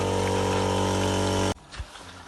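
A motorized pump draws water at an Abyssinian well dig, a loud steady droning hum that cuts off abruptly midway, leaving quiet outdoor ambience with a soft thud.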